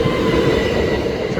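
A Class 69 diesel locomotive hauling a freight train past a level crossing at Deal, a steady loud rumble of rolling wagons close by, with no voices.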